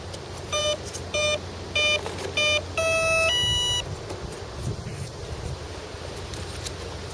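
A handheld radio transmitter's timer sounds a series of short electronic beeps, then one longer tone, outdoors on a very windy day with steady wind rumble underneath.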